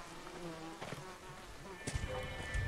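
Wasps buzz in the video game Ghost of Tsushima, a thin steady droning hum with a few sharper swells, moderately near and fairly quiet, with no speech over it.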